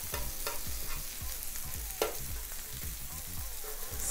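Burger patties and onions fry on a BBQ griddle with a steady, close sizzle and faint crackle. A few soft spatula taps break the sound now and then.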